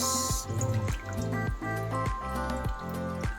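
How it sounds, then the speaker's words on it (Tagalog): Milk is poured into a pot of pork patatim with tomato sauce, making a close, rhythmic glugging and dripping with repeated wet plops over a few seconds, and no voices. "Ayan, maglalagay na tayo ng gatas."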